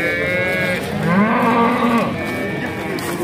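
A cow at a livestock market in Mastchoh gives one long, loud, close moo that rises and falls in pitch, with faint crowd noise behind it.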